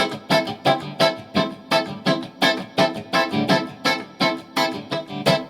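Muted, choppy guitar strums in a steady, even rhythm, each stroke short and percussive, played alone and fairly close.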